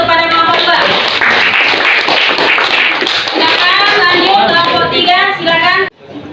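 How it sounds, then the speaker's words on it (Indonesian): Applause from a classroom of students for group 2 after a class presentation, dense clapping with children's chatter mixed in, ending abruptly. "berikan aplaus kepada kelompok 2"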